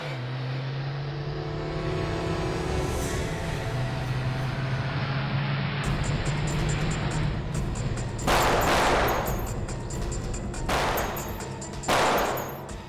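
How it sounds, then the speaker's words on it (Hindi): Gunfire in a tense standoff scene from the Indian crime drama CID, sharp bursts of shots cutting in twice near the end over a background of vehicle engine rumble and droning music. "ये लोग कौन फायर कर रहे हैं सर?"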